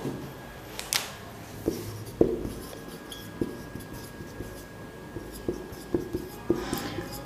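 Pen writing in a notebook during a Hindi world history lesson; soft scratchy strokes and light taps close by, in short irregular bursts over quiet room tone, with no talk.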